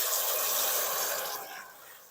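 A rush of water, 1.5 litres, is poured into caramelized sugar in a cooking pot, giving a steady loud hiss and splash that fades out toward the end.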